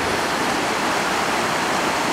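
Steady rushing flow of a river beside a traditional ryokan inn in snowy Nagano, Japan, a close, even wash of water noise with no breaks.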